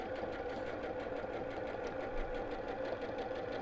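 Sewing machine running steadily as it stitches fabric near the edge of Decovil interfacing, a continuous even mechanical whir with no talk.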